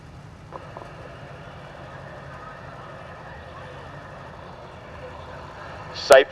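A 1948 Case farm vehicle pulls a parade trailer at a Knights of Columbus parade in Teutopolis, Illinois, its steady low engine rumble running throughout, with a loud brief burst near the end.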